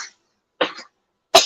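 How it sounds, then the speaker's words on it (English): A little boy coughing, three short separate coughs close to the microphone with silence between them. "Yeah, cough for everybody."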